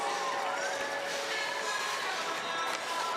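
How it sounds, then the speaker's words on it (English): Crowd cheering at a snowboard contest, a steady wash of distant shouts and whoops sustained throughout at moderate level. "I hear cheering."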